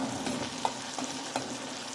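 Tomatoes sizzle steadily in a hot pan while a spoon scrapes and stirs them in a few soft, irregular strokes.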